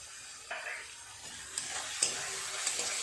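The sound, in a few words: spice paste with tomato and sugar being fried and stirred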